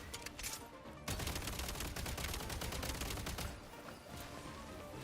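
Rapid automatic gunfire rattles in a video game set in snow, dense continuous bursts with a brief pause near the start, fairly faint and with no talk over it.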